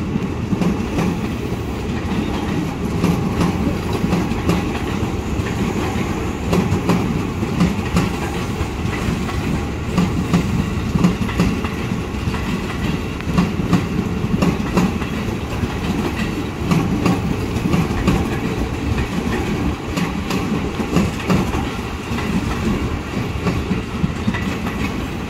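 A KRL Commuter Line train rumbles steadily at Bogor Station with clattering wheels and a continuous low mechanical roar, loud and close, with no voices heard.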